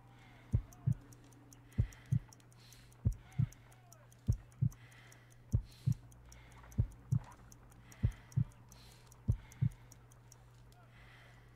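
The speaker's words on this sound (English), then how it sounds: "I need to concentrate and count the heartbeats." A slow heartbeat thumps in regular double beats, around 50 per minute and weak, in the Sherlock Holmes: Crimes & Punishments video game, steady and close over a low hum with faint ticking.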